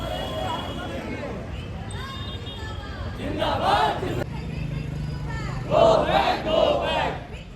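A crowd of protesters at a bank strike against privatisation chants slogans in unison, loud rhythmic shouted bursts rising and falling in waves, with voices calling out over the group.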